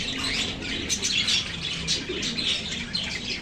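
Many parakeets chatter and chirp continuously at close range, a busy overlapping mix of tweets and squawks with no voices.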